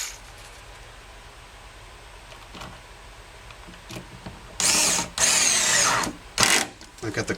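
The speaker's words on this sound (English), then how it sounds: "Take my cordless screwdriver." A cordless screwdriver with its clutch set low drives a screw into a board: after quiet handling, several loud bursts of whirring motor come close together and stop abruptly, the last few short and stuttering.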